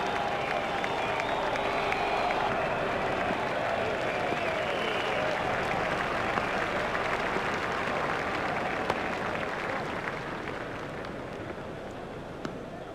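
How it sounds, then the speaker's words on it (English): A large cricket crowd at a one-day international between India and Australia in Brisbane applauds a six, with sustained loud clapping and cheering that holds steady before slowly easing off. "Crowd are standing and applauding"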